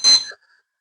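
A workout interval timer chimes once with a bright, ringing ding that decays quickly, loud and close, then a faint trailing tone before silence.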